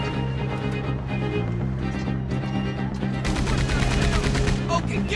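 Rapid gunfire bursts in a film action scene on a train, a fusillade rattling under a steady engine-like drone and music, loudest toward the end, with voices mixed in.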